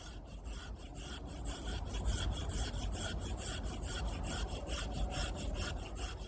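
An Opinel No. 8 carbon knife shaves fine curls from a wood stick for a feather stick, making steady close rasping strokes repeated rhythmically and alone, with no talking.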